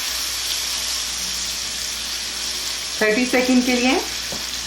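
Masala spices frying in a pan for sesame chilli potatoes, with a steady loud sizzle throughout and a brief stirring scrape near the end; a short voice speaks under the sizzle.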